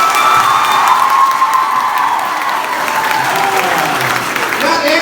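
Audience applause and cheering at a comedy show in a college setting, a loud continuous burst of clapping with shouts and whoops that holds steady for several seconds.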